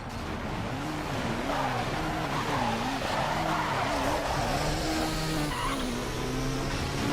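Tires squeal in a long, loud skid as a car slides in Midnight Club 3: DUB Edition Remix, a wavering screech over a steady engine roar that lasts the whole stretch, with no one talking.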